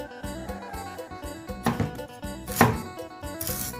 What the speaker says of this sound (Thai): ต่อไปสิมาหั่นปลากันจ้ะ